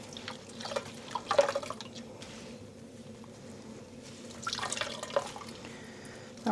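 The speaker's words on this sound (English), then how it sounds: "And squeezing out the water." Water drips and trickles in two short bursts from squeezed, freshly dyed cashmere yarn, close and fairly quiet, with a hushed pause between them and no voices.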